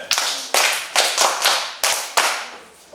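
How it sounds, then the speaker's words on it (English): A classroom group claps for a girl in about six slow, evenly spaced, loud unison claps, each sharp and close with a short decay. "Clap for the girl."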